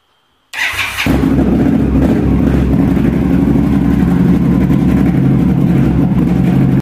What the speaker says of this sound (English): Now we're going to go ahead and start the motorcycle.